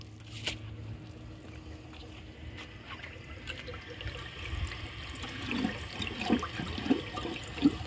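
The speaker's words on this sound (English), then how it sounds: "So now let's try a dish towel." An Eljer Windsor Lowboy toilet flushing a dish towel, with running water and trickling first, then gurgling and sloshing that grow louder toward the end, close by and with no talking.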